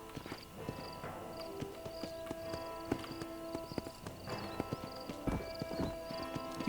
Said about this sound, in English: ഈ കുതിരനെ ഓടിക്കാൻ എന്ത് പാടാ